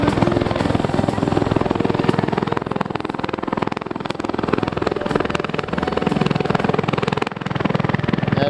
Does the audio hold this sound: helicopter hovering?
yes